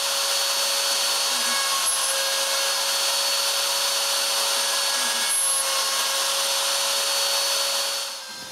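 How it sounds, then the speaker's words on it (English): A CNC machine milling a wooden padlock from wood, a steady high-pitched spindle whine with cutting noise running continuously at close range, dropping off at the very end. "I just need to let the CNC do its job."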